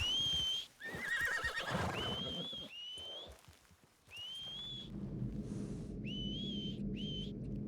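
A player character's whistle calls a horse in Red Dead Redemption 2, with several rising whistles repeated, then a horse whinnies and snorts nearby over outdoor ambience.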